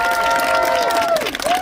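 Crowd applause at a community event for an NFL executive tied to the Pro Bowl in Orlando; sustained clapping from a sizable audience fills the moment, with a tonal voice-like sound gliding over it near the end.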